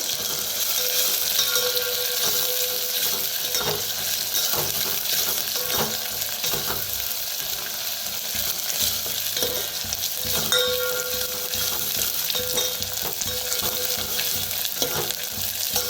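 Curry leaves crackle and sizzle in hot oil for a tempering, a continuous close frying hiss with small pops and brief stirring sounds.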